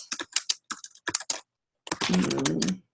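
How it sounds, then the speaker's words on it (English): Someone types a search query on a computer keyboard, giving quick bursts of clicky keystrokes with short pauses, then a denser run of typing, close and clear with no talking. "if you click on the search bar, you can type in like groups about"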